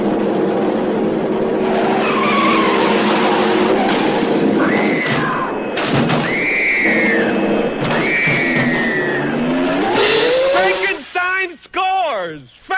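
A Corvette being driven hard, its engine roaring loudly while the tires squeal and skid in long rising screeches. Someone talks over the engine noise throughout.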